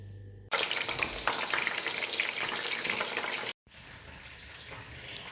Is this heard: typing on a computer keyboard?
no